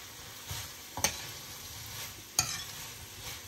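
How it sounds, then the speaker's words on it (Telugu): Fried chicken being stirred into sauce in a pan on the stove, with a steady soft sizzle broken by two sharp scraping clacks of the utensil against the pan. "సాస్ దగ్గరకు వచ్చిన తర్వాత మనం ముందుగా ఫ్రై చేసి పెట్టుకున్న చికెన్ వేసుకుని సాస్ మొత్తం చికెన్కి కోట్ అయ్యేలాగా బాగా మిక్స్ చేసుకోవాలి."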